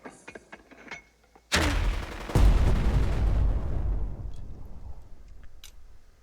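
A machine gun and mortar barrage in the tactical game Burden of Command. A few faint ticks lead into a sudden loud blast and then a second heavy impact. The rumble rolls on and fades slowly into quiet clicks.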